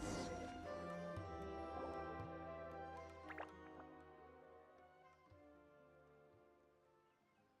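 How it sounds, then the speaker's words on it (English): Water drips in Genshin Impact, with soft droplets plinking over a faint bed of game music that slowly fades. "Did the water droplet go into that cave?"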